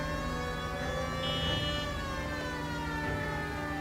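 A police car siren wails continuously in the 1940s Los Angeles driving of L.A. Noire, a loud, steady, layered tone holding throughout over faint road rumble.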